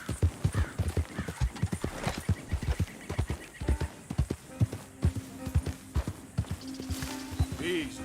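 Hooves clip-clop in a steady rhythm, then a horse neighs near the end; a voice speaks briefly over the hoofbeats, in the video game Red Dead Redemption 2.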